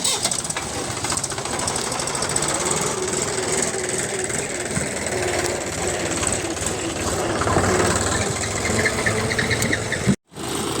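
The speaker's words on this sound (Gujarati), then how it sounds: "અહીંયા બીજા ટ્રેક્ટર પણ આવી ગયા છે લોડર જોડે" A new Mahindra 405 DI tractor fitted with a loader runs on a farm field where manure is being loaded, its diesel engine chugging in a steady rapid knock throughout, with a brief sharp dropout near the end.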